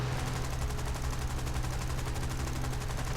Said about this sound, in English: Rip some shots across it